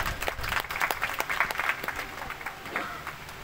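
Scattered audience clapping at a hospital inauguration ceremony, sharp individual claps rising and thinning out over a few seconds, moderately distant, with faint background murmur.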